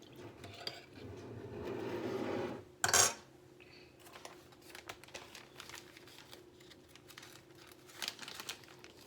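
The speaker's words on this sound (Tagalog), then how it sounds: "And I put those chicken in a Ziploc to marinate." Raw chicken being put into a Ziploc bag to marinate: steady plastic crinkling and rustling up close, then one loud, sharp crackle of the bag, followed by quieter handling clicks and light kitchen clatter.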